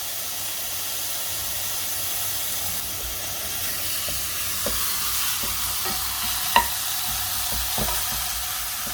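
Minced meat cooks in a pan for a bolognese-style meat tart, a continuous loud hiss and sizzle with a few scattered clicks of stirring, one sharper knock near the end, close by and without speech.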